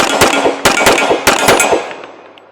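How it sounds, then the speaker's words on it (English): Rapid handgun fire from a Springfield Emissary 1911 pistol on a range: a loud opening shot and two quick follow-ups, then another fast triple burst, each crack sharp and close with a ringing tail. "I'm going to do some quick 2 follow-up shots"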